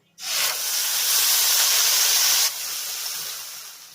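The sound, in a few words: spice paste sizzling in hot oil with cumin seeds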